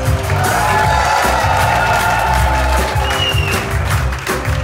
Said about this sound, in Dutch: een prachtig applaus voor Harry Herhelst